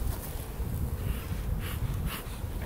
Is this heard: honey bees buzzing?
yes